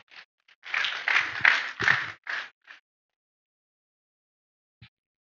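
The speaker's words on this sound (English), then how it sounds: "Round of applause once again" A short burst of applause from a small audience at a public engineering lecture, a few seconds of close, crisp clapping that fades into silence, with one faint last clap at the end.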